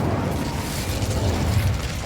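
A fiery Incendio spell bursts in Hogwarts Legacy, a dense, roaring whoosh of flame that fills the short moment at steady loudness, close and unbroken, with no voices over it.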